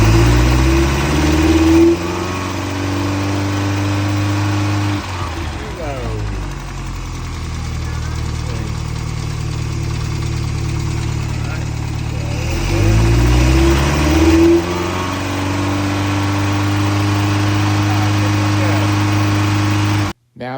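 A Triumph TR2/TR3 engine cranks, fires and settles into a steady, loud idle close by, with revs rising and falling partway through before a sudden cut at the end; a voice talks briefly over it.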